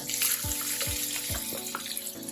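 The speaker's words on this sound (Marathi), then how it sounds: "कांदा आपल्याला थोडासा परतून घ्यायचा" Chopped onion sizzles in oil with mustard seeds and cumin, giving a steady close hiss of frying, with a few dull knocks of a spoon against the pan.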